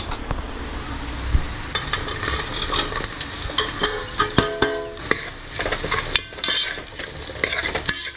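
Vegetables for a pulao sizzle in a hot pan while being stirred, a steady frying hiss broken by scraping spoon strokes and clinks against the metal, close and fairly loud with no voices.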